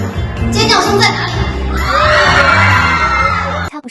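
A school audience screams, whoops and cheers loudly for a student singer on a campus stage, a dense crowd roar that swells and then cuts off abruptly.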